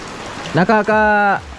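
Light, gusty rain falls steadily over a farm at harvest time, a soft broadband hiss that carries through the whole moment while a brief voiced sound rises over it.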